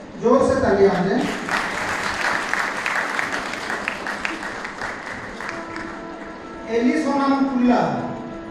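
Audience applause fills a student honours ceremony, a dense steady clapping that swells loudly at the start and again near the end, with a voice calling out over it.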